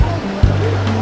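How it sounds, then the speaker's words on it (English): Water gushes from an old hand pump on a street in historic Honfleur, Normandy, a steady close splashing rush with a thump from the pump handle partway through and a voice talking over it. "You pump it on the top and the water comes out."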